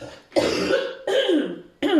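Three harsh, close coughs in quick succession from a sick woman, each a rough burst with brief silences between.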